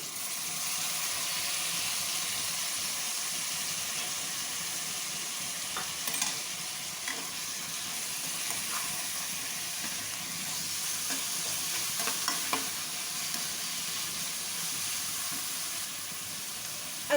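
Onions and tomatoes frying in a pan for home-style chana dal give a steady, moderately loud sizzle and hiss with a few faint scrapes of stirring and no voices.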